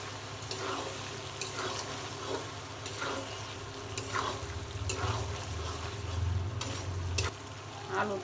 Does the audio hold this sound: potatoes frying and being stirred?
yes